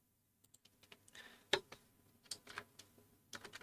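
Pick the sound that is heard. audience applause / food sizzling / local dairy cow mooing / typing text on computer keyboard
typing text on computer keyboard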